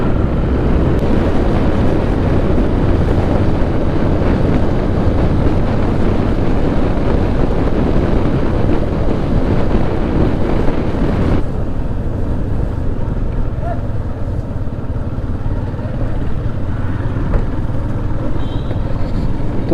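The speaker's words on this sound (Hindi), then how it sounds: "ठंडी हवा चल रही है क्योंकि अभी ना हम मंदाकिनी नदी के साथ साथ चल रहे हैं।" Cold wind blowing beside the Mandakini river in the Himalayan hills, a dense rushing roar with a rumbling engine-like undertone that drops off sharply partway through, loud and close to the microphone.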